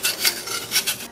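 A knife slices an apple into thick 1 cm pieces, giving four short, crisp rasping cuts in an uneven rhythm, close and fairly clear.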